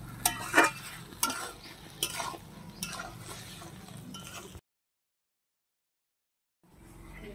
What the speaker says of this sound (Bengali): এবার দিয়ে ভালো করে একটু মশলাটার সাথে কষে নেব।